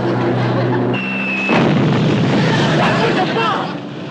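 A bomb blast in a wartime comedy bursts suddenly into a loud, broad rumbling roar that decays over a couple of seconds, following a brief whistling tone.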